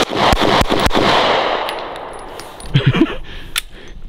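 Gunshots ring out outdoors at a can target, a quick burst of several sharp cracks followed by fading echoes, then a couple of metallic clinks and a final bang.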